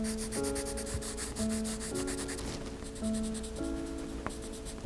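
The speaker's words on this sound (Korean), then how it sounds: "제 색연필을 보면 아주 뭉툭한 상태죠. 빨간 껍질 부분에 색을 섞어 줄 거기 때문에 깎지 않고 그냥 칠해 보도록 하겠습니다." A blunt, unsharpened yellow Prismacolor colored pencil shades the red skin of an apple drawing on paper, producing close, continuous scratchy strokes over faint tonal background music.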